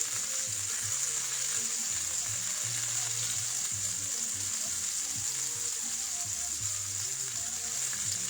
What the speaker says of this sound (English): I'm not cooking it, I'm just searing it.